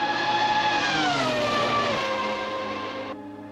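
A Ferrari F2004 Formula 1 car racing around Monza 1988 in Assetto Corsa, its high-revving engine screaming loud and close, pitch dipping as it downshifts, then cutting off abruptly.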